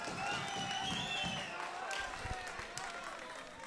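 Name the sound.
crowd cheering at a fighting tournament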